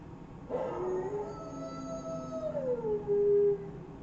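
Fortnite Howl emote: a single drawn-out wolf-like howl rising, wavering and sliding down before a final held note, clear and close over quiet background.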